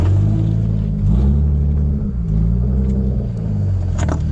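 Close, loud Infiniti G35 engine rumbling steadily at idle with low revs, a deep continuous drone filling the whole stretch, no talking.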